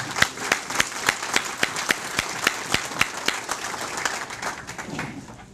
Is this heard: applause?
yes